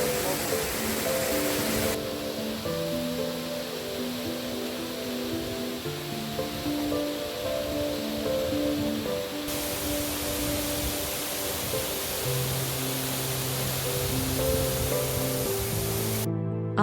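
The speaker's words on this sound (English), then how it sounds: "deafening roar of the falls" A steady, loud roar of falling water fills the whole stretch, broad and unbroken like a nearby waterfall at Brown's Falls or Dagg's Falls, while music plays over it.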